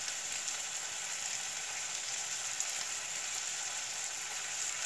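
Shrimp and yellow mushrooms stir-frying in a hot pan with holy basil leaves going in, a steady bright hiss and crackle of oil, moderately close and unbroken.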